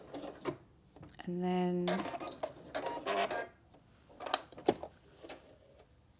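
A domestic sewing machine back stitching stretch fabric for fingerless gloves, giving a short, steady mechanical whir of about a second at close range, surrounded by a woman's speech.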